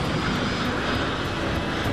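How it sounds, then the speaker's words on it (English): Air Florida Flight 90 airliner engines straining at liftoff, a steady, loud, broadband roar that holds at constant strength throughout with no voices over it. "The plane eventually had enough power to reach liftoff speed."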